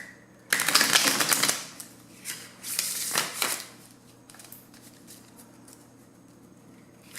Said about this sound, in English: Let me do one more, and then I'll cut the deck and I'll lay the cards out here.